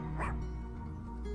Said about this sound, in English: Hazel's barking was definitely coming from down there